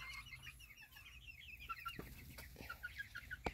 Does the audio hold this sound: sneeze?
no